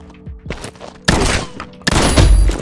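Shotgun fire in the shooter game Combat Master: two heavy, booming blasts close together, each trailing off, following a quieter stretch with faint voice-like murmuring.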